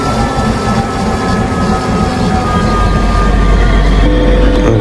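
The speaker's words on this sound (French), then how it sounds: "là on arrive à la gare de Ludre." A Z50000 electric multiple unit train on the Dijon to Nancy service runs steadily and close while arriving at Ludres station, with a loud, continuous rolling rumble and rising low-frequency drive noise toward the end.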